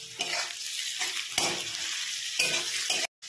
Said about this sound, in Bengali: ভাজতে থাকবো যতক্ষণ আদা রসুনের কাঁচা গন্ধটা চলে না যায়।